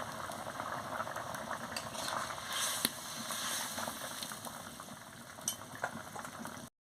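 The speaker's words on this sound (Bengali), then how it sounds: "দিয়ে ভালো করে ফুটিয়ে নিচ্ছি।" Cabbage fritter curry with potato bubbling in a pot, a steady close simmering hiss with soft popping bubbles running throughout, alone without talk.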